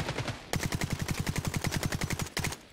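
Gunfire in the shooter game Caliber, a steady run of evenly spaced loud reports after a short lead-in, stopping briefly near the end before one last shot, with no speech.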